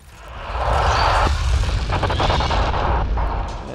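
Sniper rifle fire in Mass Effect: Andromeda, a loud sustained burst of booming shots and rumbling blasts that fills nearly the whole stretch, thick and close with no voices over it.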